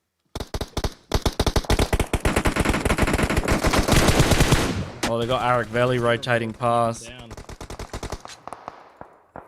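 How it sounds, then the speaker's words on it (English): Rapid bursts of PUBG Mobile gunfire rattle in quick succession, then thin out as someone talks excitedly over the shots. "So much gunfire happening all at once."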